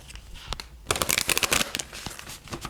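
A tarot deck is shuffled by hand, a dense rapid burst of riffling card flutters that swells to a loud rustle and then tapers off, close to the mic with no talk.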